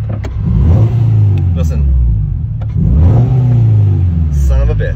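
A car engine revs unevenly and misfires close by outdoors at an airport, its rough, stumbling roar rising and falling in two long surges, with a voice talking over it.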